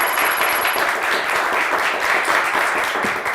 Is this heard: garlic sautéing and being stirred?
no